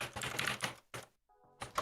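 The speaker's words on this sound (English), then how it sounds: "Razer Mechanical keyboard." Quick bursts of clattering keystrokes on a Razer mechanical keyboard, loud and close, with a short gap and a brief faint tone before the typing resumes. Nobody speaks.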